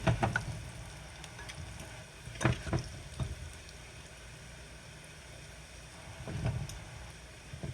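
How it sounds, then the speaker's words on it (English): Falafel sizzles steadily in oil in a pan with a faint crackle, broken by a few clattering knocks of utensils against cookware. "so that is frying up very nicely and beautifully"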